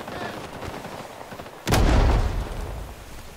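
Single loud, sharp blast of gunfire from up a hill in Rising Storm 2: Vietnam, standing out from a low rustling background and trailing off into a rumbling decay.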